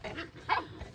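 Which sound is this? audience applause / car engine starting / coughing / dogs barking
dogs barking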